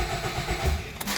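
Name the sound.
2007 Nissan Rogue engine cranking and starting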